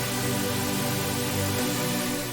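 Unfiltered synth chord stack from a melodic bass house track in Ableton rings out as a dense, bright, wide sustained chord, loud and full-range with no voices over it.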